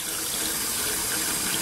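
A stream of water pours steadily through a water cycle obstacle course at an outdoor event, a continuous close gushing like a running tap, with no talking.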